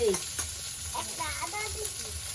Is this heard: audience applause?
no